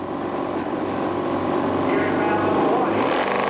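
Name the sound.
drag racing motorcycles at the staging line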